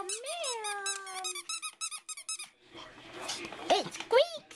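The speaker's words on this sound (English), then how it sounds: "It squeaks! It's a squeaky turtle!" A squeaky rubber turtle toy squeaked in a rapid run of high, close squeaks, followed by livelier play sounds with a dog's growls and whines and excited voices.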